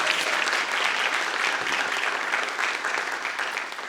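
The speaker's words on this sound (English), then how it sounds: "Please give her a huge hand of applause." An audience at a birthday celebration for a Black literature and culture center gives a steady, full round of applause that carries evenly throughout, then begins to taper off at the end.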